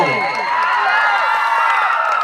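Crowd at a village dance competition in Lohjhar cheers and whoops in welcome, loud high-pitched shouting voices rising together in a short, continuous burst.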